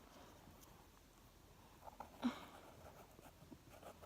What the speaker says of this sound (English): I'm drawing this upside down